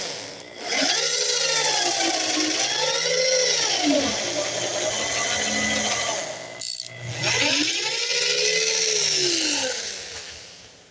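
A power drill bores into a hidden tang knife handle, its motor whining in long sustained runs that sag and rise in pitch under load, broken by a brief pause partway through.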